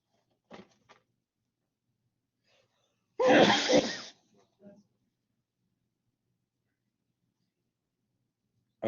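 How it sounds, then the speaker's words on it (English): A single loud, close sneeze bursts out for about a second in a classroom, with brief snatches of a voice before and after and quiet otherwise. "I just had to sneeze, and I was like, I am not sneezing into my mask."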